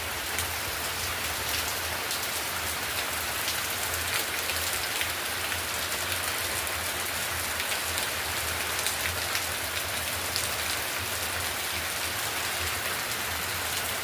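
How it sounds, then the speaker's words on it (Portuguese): Rain falls steadily in the Paraíba sertão, Vale do Piancó, on a windy day, a dense, even hiss of drops striking surfaces that carries on for the whole stretch with no voices over it. "graças a Deus, gente, tá chovendo"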